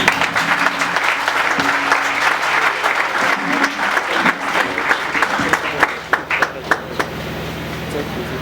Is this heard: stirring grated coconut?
no